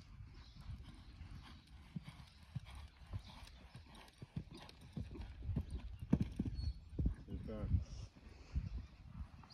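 Hooves of a ridden horse clip-clop in a steady rhythm at close range during a riding lesson, with a few louder footfalls and a voice talking over them.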